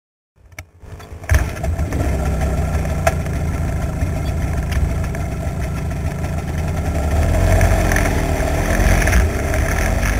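A Russian Minsk motorcycle starts up and its engine runs steadily on a road in Vietnam, a loud close continuous drone that swells slightly toward the end, with no talking.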